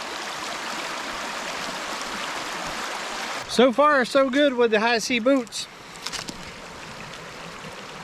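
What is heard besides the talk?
creek water flowing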